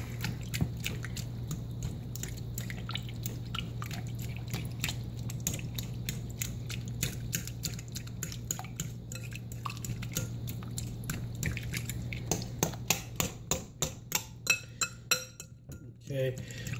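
Salmon patty mixture is worked by hand in a bowl, giving wet squishing and clicking sounds that run steadily and grow into sharper rhythmic squelches near the end, close up under a low background hum.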